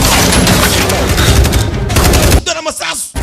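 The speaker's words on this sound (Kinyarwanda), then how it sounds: "Aba bari kurasa." Rapid gunfire crackles loudly in a dubbed action movie, dense automatic bursts that stop abruptly, followed by a voice speaking over a quieter background.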